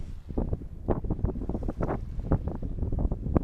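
Light night wind on a solo sailboat heeling gently mid-Atlantic, a steady rushing buffet across the microphone with soft irregular gusts and faint creaks or knocks, no voices.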